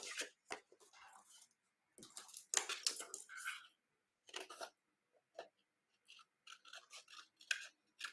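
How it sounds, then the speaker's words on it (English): Metal snips cut around a curved edge on a treat basket craft piece, a run of short crisp snipping clicks and rasps in uneven bursts with brief pauses, fairly faint and close, no talking. "we're just going to take our snips and we're just going to cut around that curvature and we're going to cut that off on each end"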